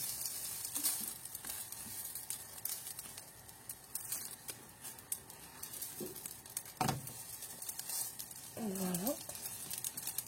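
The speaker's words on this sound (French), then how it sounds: "Et je les laisse cuire encore de l'autre côté." Barley and oat galettes cook on their second side in a pan, giving a soft, low-level sizzle with occasional faint ticks and a brief muffled vocal sound near the end.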